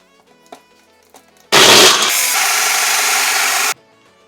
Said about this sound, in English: And we're gonna blend.